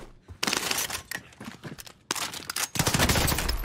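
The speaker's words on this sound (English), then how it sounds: "They're shooting at me." Gunfire in the online shooter Warzone: loud bursts of automatic and single shots crack in quick succession, with a brief lull before heavier sustained volleys fill the second half.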